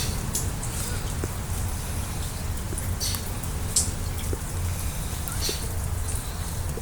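Rain falls on a gray day, a steady close patter with scattered louder drips and splashes over a low constant rumble, no voices.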